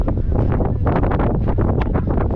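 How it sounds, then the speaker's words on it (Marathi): Strong wind buffets the microphone in continuous loud gusts at a seaside fort near Alibag beach, a rough roaring rush with no voices. "वारा सुटला आहे खूप"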